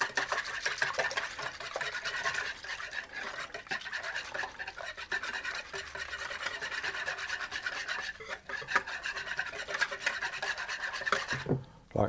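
Whisk rasping steadily against a bowl as egg, oil and sugar are beaten together for soft white sandwich bread, a fast continuous scraping texture that runs close and fairly loud for about twelve seconds.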